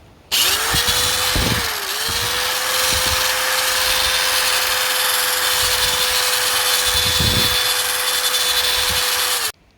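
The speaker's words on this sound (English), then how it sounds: "And now with that powder on the end of the polishing wheel," A steady, loud whine of a spinning polishing wheel with polishing powder grinding against window glass, with a few brief scraping surges, running nearly ten seconds before stopping.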